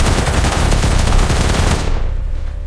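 Dense, continuous automatic gunfire from a woman firing at a threat, loud and sustained for about two seconds before cutting off into a fading rumble.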